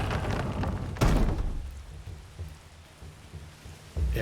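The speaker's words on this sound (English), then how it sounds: "it's nice to feel the pitter-patter of the rain again on the controller" Rain falls steadily in the video game Sifu, a dense hiss of drops with a heavy thud near the start and another at the end, heard alone at moderate volume.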